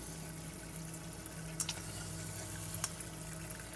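Bacon and butter bubbling in a pan over lowered heat: a faint, continuous soft sizzle with a couple of sharp pops or clicks.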